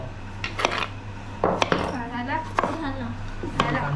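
A knife chopping onion on a board for chicken biryani, with sharp irregular clacks and clinks of utensils in a quiet kitchen and no talk.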